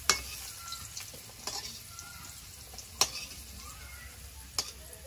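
Oil sizzles steadily in a wok as potatoes finish frying, a soft crackling hiss punctuated by a few sharp ticks of a utensil against the pan.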